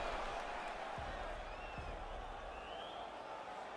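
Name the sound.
UFC crowd cheering after a round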